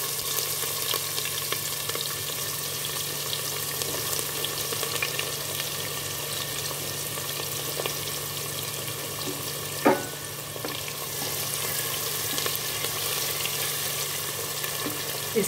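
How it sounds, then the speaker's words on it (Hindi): Cumin seeds, whole spices and sliced onion fry in oil for a mutton do pyaza curry, a continuous even sizzle holding steady throughout, with a single brief clink near the middle. "इसको हमें थोड़ा लाइट पिंक होने तक भूनना है"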